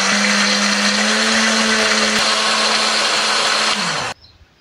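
A blender whirs loudly and steadily, grinding chili and spices with a little water at high speed for a few seconds before abruptly switching off.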